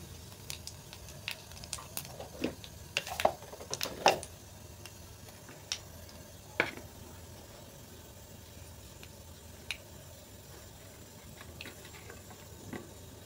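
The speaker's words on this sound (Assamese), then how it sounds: "তো এয়া তেল গৰম হৈ গৈছে। ইয়াত মই এতিয়া ক'লা জিৰা দি দিলোঁ কেইটামান।" Nigella seeds (black cumin) dropped into hot oil for a fish curry crackle and pop in scattered sharp ticks over a faint background hiss, busier early on and sparser later, with no talking.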